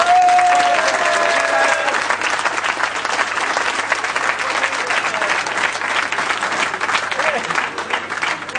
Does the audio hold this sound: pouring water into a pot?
no